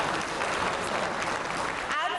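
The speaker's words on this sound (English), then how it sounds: "A huge round of applause, please," Audience applause at the inaugural ceremony of the 59th ABU General Assembly, a dense, steady clapping filling the hall for about two seconds.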